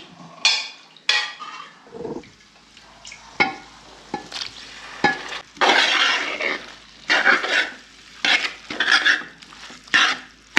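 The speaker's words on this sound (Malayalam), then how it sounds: "നമുക്ക് വേവിച്ച് വെച്ചിരിക്കുന്ന ബീഫ് നമുക്ക് ഇതിനകത്തോട്ടിട്ട് മിക്സ് ചെയ്യാം" Cooked beef is stirred into a thick gravy in a pot, giving a series of irregular spoon scrapes, knocks and wet squelches close by, with short bursts separated by brief pauses.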